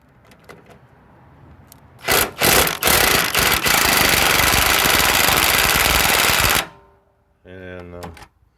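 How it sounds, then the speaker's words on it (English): An impact driver backs out stubborn 10mm body panel screws, a loud close rattling hammer of about four seconds after a few brief stuttering bursts, followed by a short whirring spin-down, with little else around. "So on these screws here, these will go into the body panels. So they're a little stubborn. We're going to use the impact driver."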